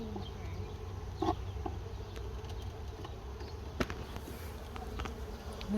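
Honeybees buzzing around a hive frame, a close steady drone of many wings with occasional louder passes and faint clicks.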